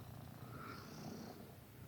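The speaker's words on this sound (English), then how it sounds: "You're snoring so loud." A sleeping cat snores softly and rhythmically up close, a low rumbling breath that sounds much like purring. It is very quiet and steady, with nothing else heard.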